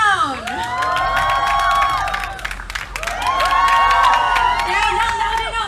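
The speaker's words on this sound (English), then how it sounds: "Let's all give a warm round of applause, please, to Millie Bobby Brown." An audience at Asia Pop Comicon in Manila cheers, screams and applauds loudly, with high excited shrieks rising in two waves over continuous clapping.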